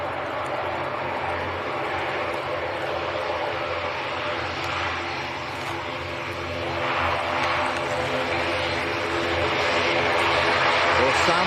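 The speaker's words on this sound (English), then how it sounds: "So that's Aer Lingus from Belfast in Northern Ireland." Aer Lingus airliner from Belfast at Leeds Bradford Airport, a steady distant engine roar that swells slightly toward the end, with a voice talking over it.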